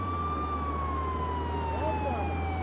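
A police car siren from the Contraband Police video game wails steadily and loudly over a constant low engine drone, with a second faint siren tone briefly rising near the end.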